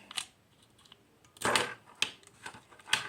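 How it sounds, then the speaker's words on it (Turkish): Small scissors snip through a helicopter model part in a few sharp, close cuts spaced irregularly, with faint handling noise between them. "şu makasla çok dikkatli bir şekilde şuraları kesiyorum"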